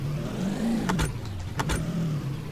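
A homebrew RC armored vehicle driving, a steady low motor hum with a few sharp clicking rattles, close and continuous, no voices.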